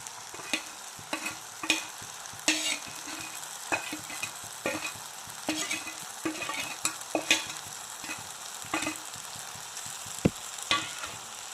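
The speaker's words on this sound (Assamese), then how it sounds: "আৰু ভালদৰে লৰাই দিম চব্জিখিনি" Labra mixed vegetables stirred with dried fish and red chili in a pan, a steady sizzle under repeated scraping spatula strokes and light metal taps, close and continuous with no voices.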